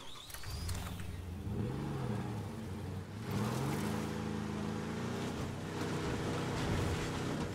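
A vehicle engine in the zombie survival game State of Decay 2 revs and drones as the car drives, its pitch rising and falling through gear changes with no talking over it.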